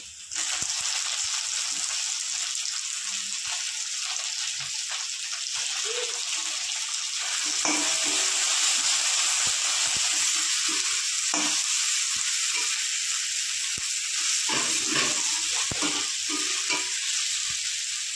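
Chopped tomato frying in hot oil for a fish curry, a loud, steady sizzle throughout with occasional stirring scrapes and clinks, close up and without speech.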